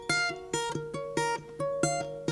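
A children's guitar, recorded close through an inexpensive microphone, sounds a series of plucked notes and strummed chords in an uneven rhythm, each attack ringing briefly before the next, with no voices.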